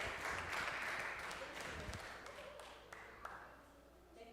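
A live evening show audience applauds to welcome a singer, a dense wash of clapping that starts full and gradually thins and softens, with a few stray claps and faint voices near the end.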